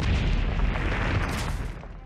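A bomb goes off in the side-scrolling game Owlboy, a loud, sustained booming blast with a rumbling tail that slowly fades over about two seconds.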